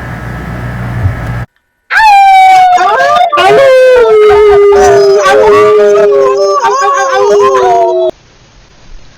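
Gray wolves at a wolf sanctuary in Speedwell raise a loud chorus of several overlapping, long, wavering howls that rise and slide downward for about six seconds, then stop abruptly, with quiet outdoor ambience before and after.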